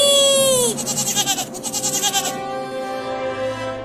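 A cartoon goat bleats in a long, wavering, quavering cry, loud and close over a musical backdrop.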